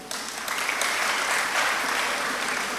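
An audience applauds steadily during a Jain religious discourse by Aryika Vigyamati Mataji, a dense wash of many hands clapping that fills the whole stretch at an even level.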